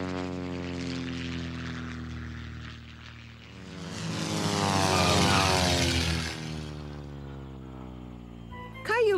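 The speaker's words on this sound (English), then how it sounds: "I wish we could see some more airplanes. We can. I think I see another one coming in for a landing." A propeller airplane comes in for a landing, its engine drone swelling as it nears overhead and then fading as it passes, with a brief voice at the very end.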